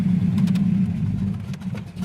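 A 1970 Pontiac GTO engine running, a steady low close rumble with slight unevenness and no talking.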